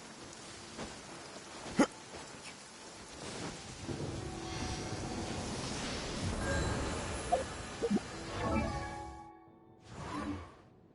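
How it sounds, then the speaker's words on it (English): A rain downpour in the Genshin Impact video game patters softly in the background with occasional whooshes and scattered game effect sounds, quiet and even throughout. "Taking a stroll in the middle of a downpour certainly rouses the spirit."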